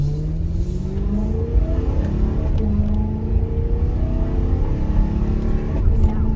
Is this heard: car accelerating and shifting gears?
yes